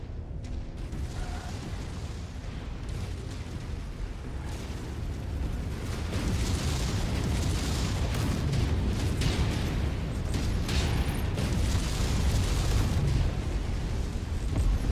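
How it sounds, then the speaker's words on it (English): A mech blows up in a MechWarrior battle, giving a long rumbling blast over heavy combat noise. Crackles, pops and booms swell louder partway through and hold steady, with no voices. "Enemy mech destroyed."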